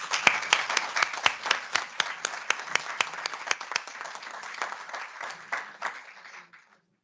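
Audience applause opens a Spanish conference session on a new long-term care model, beginning as a few loud, distinct claps, swelling into sustained clapping, then thinning out and stopping.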